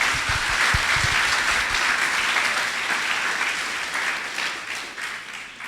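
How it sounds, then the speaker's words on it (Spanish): Church congregation applauding, a dense sustained burst of clapping that fills the room and slowly fades, with no talk over it. "Dele un aplauso a Él fuerte."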